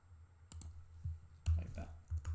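Keys click on a computer keyboard while someone types math into Gradescope, a few soft, irregular taps and a louder cluster near the middle, quiet and close.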